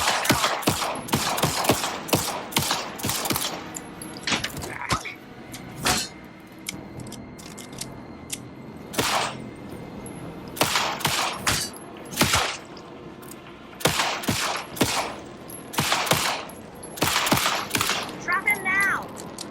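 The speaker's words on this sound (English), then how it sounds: "Anderson, pin him down with gunfire for me to get the light on him." Gunfire in the video game Alan Wake 2 comes in sharp, loud bursts and single shots, spaced irregularly with brief quieter gaps between volleys.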